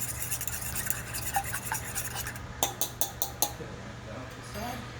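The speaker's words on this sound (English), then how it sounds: "So we're just gonna make sure our eggs are really scrambled." Eggs whisked and scrambled with a utensil in a bowl, a run of quick clinking taps near the middle over a low steady hum, with softer scraping stirs around them.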